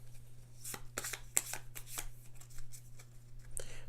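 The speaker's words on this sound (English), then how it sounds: "the discard pile will be shuffled" A deck of Kingdom Death: Monster game cards being shuffled by hand, a series of quick riffling bursts close up over a faint steady hum, with no talking.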